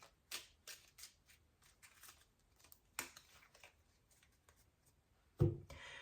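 A few crisp riffles and soft flicks of tarot cards being shuffled up close, sparse and quiet, ending with a sharper tap.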